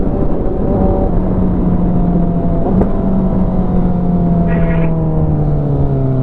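A Honda CBR1000RR motorcycle engine warming up after two weeks without being started holds a steady, loud idle with a droning hum and a slowly sinking pitch, close by and continuous throughout.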